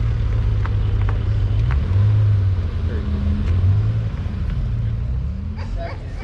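Spyder sports car engine rumbling low and fairly close, rising and falling in pitch as it drives past in California, with people talking nearby.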